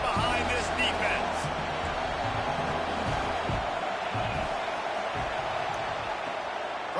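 Stadium crowd roaring behind the defense on a big third down at an Oregon vs Michigan football game, a dense, sustained wash of cheering under a commentator talking.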